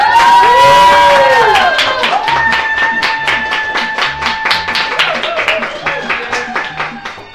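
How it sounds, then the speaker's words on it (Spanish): Live studio audience on a Sunday radio show from the Comarca Lagunera, clapping and cheering close by, a dense burst of claps under high shouting voices that thins toward the end. "Audiencia, por favor, aplausos."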